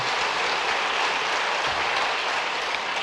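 A church congregation applauds in welcome during a Sunday worship service, with steady, dense clapping filling the room for the whole clip and no speech over it.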